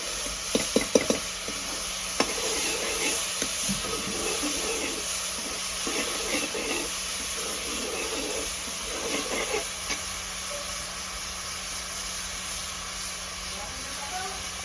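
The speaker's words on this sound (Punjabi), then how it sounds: "ਭਜੇ ਬਰਾਊਨ ਹੁੰਦੇ ਤੱਕ ਆਪਾਂ ਇਹਨਾਂ ਨੂੰ ਪਿਆਜ਼ਾਂ ਨੂੰ ਚੰਗੀ ਤਰ੍ਹਾਂ ਭੁੰਨ ਲਵਾਂਗੇ" Sliced onions fry in ghee in a pan while being stirred, a steady sizzling hiss with a few spoon clinks and scrapes at the start, under a continuous background hum.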